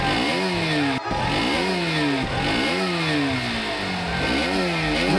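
Several motorbike engines rev hard and loud at close range in repeated rising and falling surges, overlapping as they throttle up before a race.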